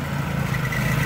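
A homemade snow blower engine idles steadily during a snowstorm, a close, even low hum with a constant mechanical drone and no revving.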